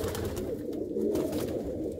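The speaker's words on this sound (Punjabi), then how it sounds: "ਇਹ ਵੀਰ ਨੇ ਇੱਕ ਕਬੂਤਰੀ ਫੜੀ ਆ ਜੀ" A caught white-eyed female hobby pigeon, a flier that stayed up for hours, gives a continuous low, throaty cooing at close range for about two seconds, with no talk over it.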